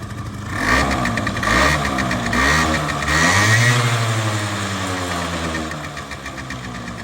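A Suzuki Lets 2 scooter engine with a new carburetor runs close by, revving up and settling back down in a couple of smooth swells before holding a steady hum.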